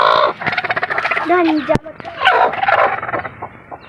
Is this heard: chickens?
yes